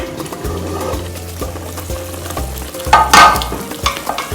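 Mutton coated in black pepper paste cooks in a lidded pot, a loud close bubbling sizzle with low rumbling, steady throughout and swelling briefly midway.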